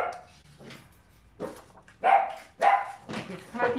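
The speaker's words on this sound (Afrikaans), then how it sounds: "Ek praat nie dis nou hier dat die honde so blaf nie." Several dogs bark in sharp, separate bursts, faint at first and then louder and closer, with a few yips between the barks and no one speaking.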